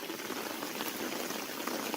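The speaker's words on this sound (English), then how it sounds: "You see that water emptying out of that gutter?" Rainwater gushes out of a gutter downspout into drainage, a steady, hissing, splashing flow of moderate loudness with no pauses and no voices.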